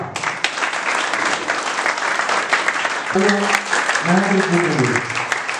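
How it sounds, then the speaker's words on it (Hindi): A theatre audience breaks into loud, sustained applause for actor Akash Rai at a curtain-call stage play, with dense clapping filling the room and a voice briefly rising over it. "एक बार जोरदार तालियां आकाश जी के लिए"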